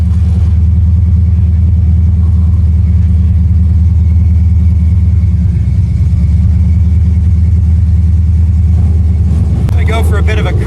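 A 1979 AMX's engine rumbles loud and close with a deep, steady drone while cruising through a car show, holding a constant low throb, with faint voices and a brief bright clatter near the end.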